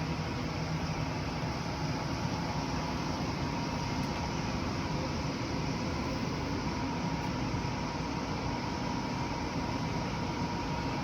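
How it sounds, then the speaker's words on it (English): A furnace runs in a garage with a constant, even roar of broadband whooshing noise. It stays steady throughout, with no voices over it. "That's the furnace running, in case you wonder what that noise is."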